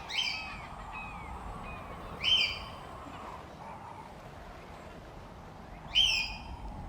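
Seagulls cry in the video game Life is Strange, three sharp squawks spread apart over a steady ambient hum, moderately loud and without talk.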